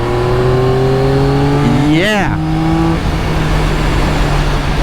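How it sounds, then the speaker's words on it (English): A 2024 Yamaha XSR900 with a 900cc inline-three engine revs hard while ridden, pitch climbing then dropping sharply in a quick rev around the middle, loud and close over steady wind and road noise, with a brief spoken word. "what I'm feeling is that 120 horsepower 900cc inline 3 engine"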